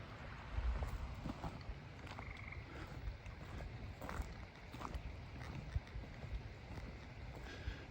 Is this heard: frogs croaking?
yes